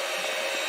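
Small handheld electric mixer switched on, a loud steady whirring drone close by for under a second.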